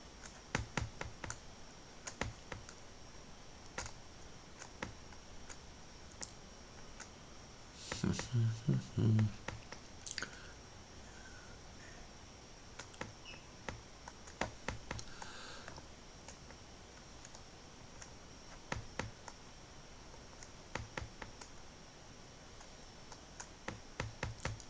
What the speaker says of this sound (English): Sorry for all the clicking noises on the keyboard.